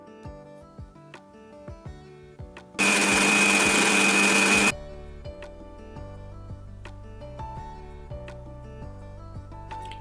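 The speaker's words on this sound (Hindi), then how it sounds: "जो मसाला हमने रेडी किया था ना, उसको हम पीस लेंगे ठंडा होने के बाद।" An electric grinder whirs loudly and steadily for about two seconds, pulverizing a roasted spice mix for mango pickle, then cuts off, leaving quieter kitchen sounds.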